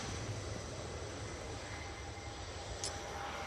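An Aer Lingus ATR 72 turboprop takes off, heard as a steady, broad engine roar with a low droning hum, fairly distant and even in level throughout, with no voices.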